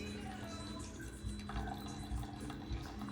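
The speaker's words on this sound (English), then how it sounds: "And turning on the downstairs sink." Water running from a downstairs sink tap during cottage winterizing, a steady broadband rush with faint dripping, heard alone and fairly close throughout.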